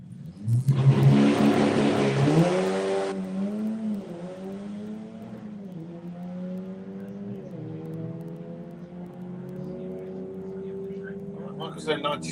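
A drag racing car launches and accelerates hard down the strip, a loud roaring burst at first that settles into a long, steady engine drone fading into the distance, heard alone without talk.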